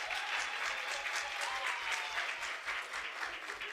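An audience applauding at the GCIS Women in Media 2024 event. Steady, dense applause fills the room with many hands clapping at once and holds evenly throughout.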